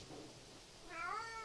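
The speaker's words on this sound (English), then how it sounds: "My cat is here." A pet cat meows in a drawn-out, wavering call in the second half, close and fairly clear over a quiet room after a brief softer sound.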